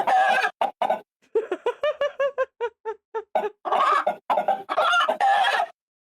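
A person imitates a chicken clucking, a rapid series of close, loud vocal clucks and squawks in a bouncing rhythm, alone without other talk.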